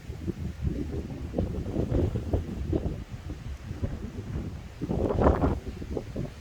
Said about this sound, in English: Oh, here's getting another little gust.